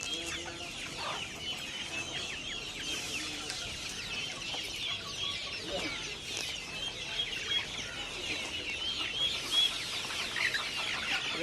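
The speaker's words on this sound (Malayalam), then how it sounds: "നല്ല നാടൻ കോഴി." Country chickens cluck at a market, a faint, continuous scatter of clucks and soft calls at moderate distance with no one talking.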